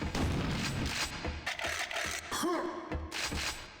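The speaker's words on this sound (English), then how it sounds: "A little more grenades" Grenades burst in the shooter Quake 2: Ground Zero, several loud booms in quick succession amid game noise and faint talk.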